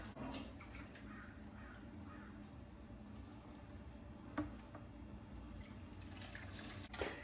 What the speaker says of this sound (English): what I'm also going to do is add 1 cup of water